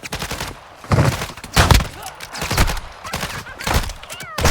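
Gunfire in Call of Duty Warzone 2.0 DMZ, played with twin-barrel Lockwood 300 shotguns: irregular bursts of heavy shots with thuddy low ends, spaced loosely across the stretch, loud and close.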